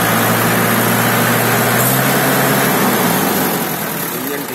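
A 2014 Mahindra 575 tractor engine idles close by, a loud continuous diesel chug whose low pitch drops slightly midway, with no talk over it.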